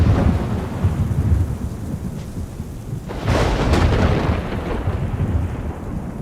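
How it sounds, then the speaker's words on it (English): A thunderstorm with steady heavy rain and a loud rumble of thunder rolling through the middle, continuous and close, with no voices. "Amsterdam and the North Sea saw thunder and windstorms so incessant and so intense"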